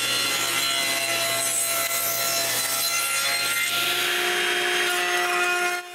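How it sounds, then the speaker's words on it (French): A saw cutting scrap wood into small square pieces runs steadily and loudly up close, a continuous rasping buzz with no talking. "je coupe des bouts carrés à la grosseur des petits trous"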